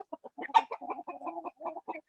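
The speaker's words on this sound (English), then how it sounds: "the owner said, actually, there's 2 roosters." Two roosters cluck close by in a busy string of short, rhythmic calls, one louder squawk near the start standing out over the steady chatter.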